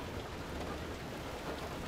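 Hail falling in the video game Far Lone Sails: a steady, dense hiss of pelting ice, continuous and fairly loud, with no voices over it.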